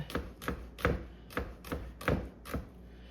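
A knife chops an onion on a cutting board in seven crisp, evenly spaced strikes, each a sharp knock against the board, close and clear with no talking.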